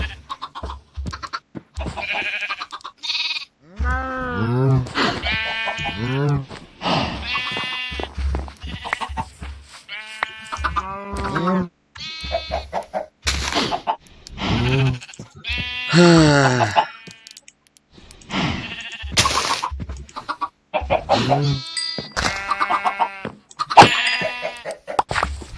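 Sheep in the video game Minecraft bleat over and over in a long run of wavering, nasal calls. The calls come close and loud, some overlapping, with brief pauses between groups.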